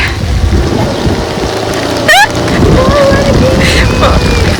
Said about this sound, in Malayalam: നല്ല മഴ വരുന്നില്ല, നല്ലൊരു സാധാ മഴയാണ്